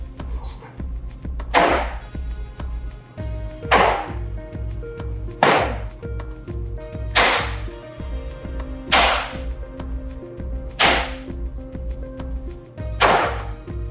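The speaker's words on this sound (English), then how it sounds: "first you need a chunk of clay, and then you slap it a bunch on the table" A lump of potter's clay slapped repeatedly onto a table while being formed into a carrot shape for a handle, about eight sharp, loud smacks at a steady rhythm, with a low hum running underneath.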